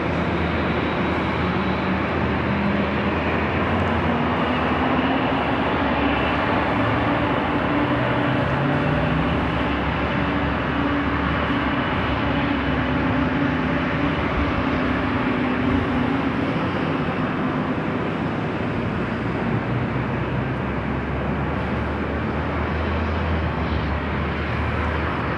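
An airliner rolling for takeoff on runway 24 left at LAX, a steady heavy jet engine roar with slowly shifting tonal whine, sustained and fairly loud across the whole stretch, without any talking.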